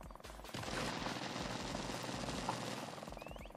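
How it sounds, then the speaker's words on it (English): An airstrike in a military shooter game: a dense, rapid rattle of explosions and gunfire rolling on steadily for several seconds, close and loud. "Oh, they're throwing an airstrike themselves."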